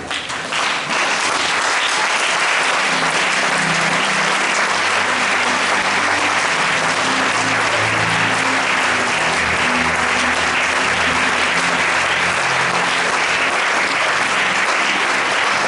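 A church congregation at a Sunday service applauds loudly and steadily for the whole stretch, dense clapping filling the room with a crowd murmur and no clear speech over it.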